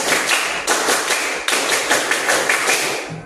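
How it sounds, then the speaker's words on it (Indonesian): A group does an Indonesian scout clap, sharp rhythmic patterns of many hands clapping together in quick bursts, loud and close, with no talking. "Ya, 1 kali tepuk pramuka."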